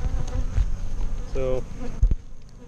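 Honeybees buzzing steadily close by around an open hive, a continuous insect drone with a brief spoken word and a few knocks.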